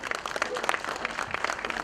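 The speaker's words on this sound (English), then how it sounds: "for that dance, and we can clap for them" Applause from an audience at a trade fair after a dance performance, a short burst of scattered hand claps, moderately loud with some crowd murmur underneath.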